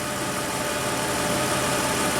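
A Toyota truck engine in limp-home mode with a P2111 fault idles at around 730 RPM, giving a steady, dense, even rumble with a light knocking texture, close and continuous throughout.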